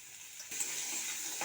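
Beans and carrot sizzle in a pan with salt and turmeric while vegetables are cooked for dalia khichdi, a soft hiss that jumps louder midway as more goes in, then holds steady.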